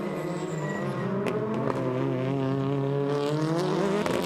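GT Masters race cars roar through the hairpin at Hockenheimring, a loud engine note rising steadily as a car accelerates out, with a brief tyre screech from another car locking up in the distance.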